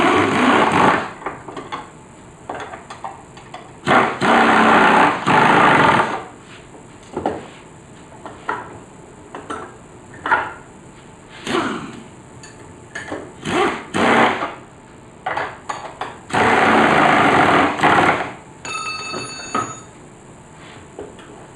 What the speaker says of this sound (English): Then we'll grab our impact wrench and we'll snug this side down.